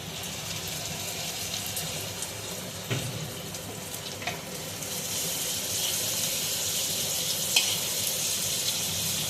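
Chicken sizzles steadily in a hot pan while mixed fried rice is cooked at home, a close, even hiss with a couple of sharp clinks from a utensil and no talking.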